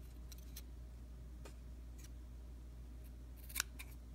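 Scissors snipping off excess material, a few faint, quiet sharp cuts spread across an otherwise hushed background hum, with one slightly louder snip near the end.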